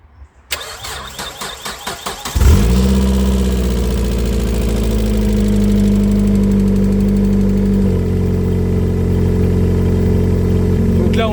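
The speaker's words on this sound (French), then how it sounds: "Et on va pouvoir mettre un petit coup de démarrage." A Mazda MX-6 / Ford Probe engine cranks in a few rhythmic turns, then catches and settles into a loud, steady idle after an oil change, close by with no talk.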